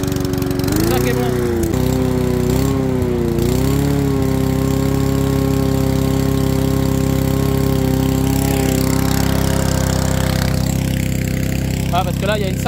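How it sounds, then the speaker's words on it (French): A vehicle engine turns over and catches at once, then settles into a steady, loud idle that runs throughout, close to the microphone. "Démarrer au quart de tour."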